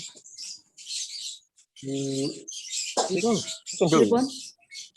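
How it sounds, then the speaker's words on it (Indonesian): Birds chirp and tweet repeatedly in short bursts, with a voice speaking intermittently over the birdsong. "Suaranya burung."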